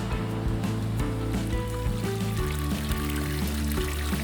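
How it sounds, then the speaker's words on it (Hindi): Water rushes steadily down a small waterfall at Bhagsunag near Dharamshala, Himachal, a continuous close splashing flow with a faint tonal hum underneath. "पानी की आवाज तो सुनिए आप जरा।"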